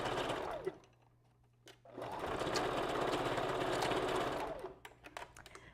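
A sewing machine stitches through wig material, with a short burst of backstitching, a pause, then a long steady run of rapid mechanical stitching that stops and restarts briefly at the end, close and clear.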